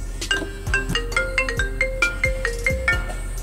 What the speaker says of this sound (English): And I got a freaking phone call in the middle of it.